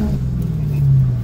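A car on a damp, drizzly road accelerates, its engine holding a loud, steady low rumble that climbs slightly in pitch as the tires start to break loose.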